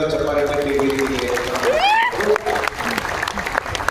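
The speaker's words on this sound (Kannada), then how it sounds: "ತಾವೆಲ್ಲರೂ ಚಪ್ಪಾಳೆ ತಟ್ಟಿ ವೇದಿಕೆಗೆ" An audience applauds at the Lingayat Basava culture campaign closing ceremony at Palace Grounds, Bengaluru. Continuous clapping plays under an announcer's amplified voice in a large crowd.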